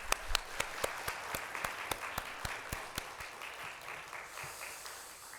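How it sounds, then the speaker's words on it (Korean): A Korean church congregation applauds during a Sunday service, with loud rhythmic unison clapping at a steady beat over a wash of scattered claps, easing off near the end. "우리 격려하며 축복하며 박수하겠습니다."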